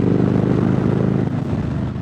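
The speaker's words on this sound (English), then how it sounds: "The bike sounds insane with these Reinhardt exhaust pipes on it." A 2020 Harley-Davidson Low Rider S motorcycle fitted with Reinhardt exhaust pipes idles with a deep, loud, throbbing rumble, a continuous engine pulse with nothing else heard over it.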